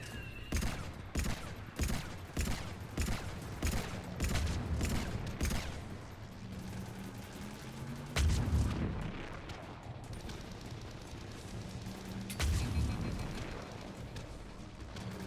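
Bursts of gunfire in the video game Mass Effect 3, a quick string of sharp shots at the start, then heavier booming blasts and rumbling impacts under a dense combat soundscape.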